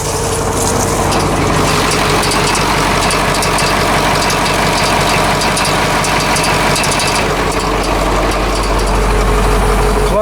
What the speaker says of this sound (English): Quiet diesel.